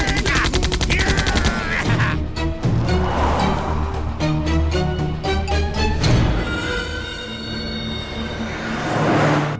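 Gunfire erupts in a Hindi film scene from Akhil The Power of Jua, a loud rapid volley of evenly spaced shots in the middle, set among heavy rumbling and clattering action noise.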